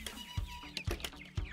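Chickens on a farm in Northern Ireland cluck in short, repeated bursts at a moderate distance, with a few higher squawks mixed in and no talking.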